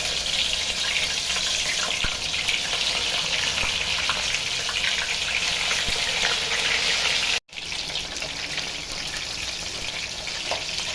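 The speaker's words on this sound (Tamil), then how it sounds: "எண்ணெயில் போட்டுக்கலாம்." Chicken and vegetable skewers deep-frying in hot oil for a barbecue-style recipe, a loud, steady, dense sizzle and crackle that fills the whole stretch, with a brief cut partway through.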